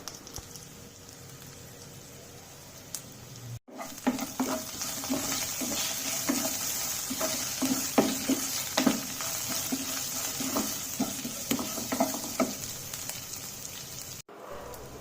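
Hing and spices frying in a pan for bele soppina saaru, a steady close sizzle with scattered crackles and spoon scrapes, briefly broken by short gaps.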